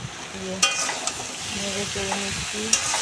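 Greens and vegetables coated with turmeric and cumin in a frying pan, stirred with a utensil, giving close scraping strokes and a few sharp metallic clinks over a continuous sizzle.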